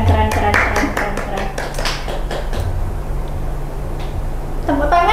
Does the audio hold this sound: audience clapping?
yes